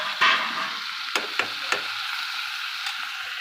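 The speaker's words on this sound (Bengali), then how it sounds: "মাংসটা ভাজা হচ্ছে, চিকেনটা কেমন ভাজা হচ্ছে" Chicken meat fries in a pan with spices, salt and chopped tomato, giving a soft, steady sizzle broken by a few sharp clicks and scrapes from stirring.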